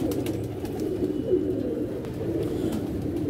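Pigeons cooing from a rooftop loft, a soft continuous low murmur of calls at moderate level with no one speaking.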